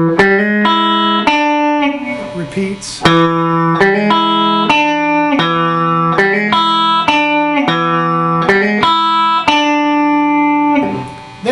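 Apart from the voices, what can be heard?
guitar blues riff in E with 7th and hammer-on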